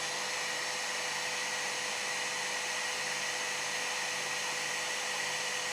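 A JISULIFE Neckfan 5 neck fan runs steadily at speed setting 75, giving a continuous, even airy whoosh with a faint tonal whine, close and constant, with no talking.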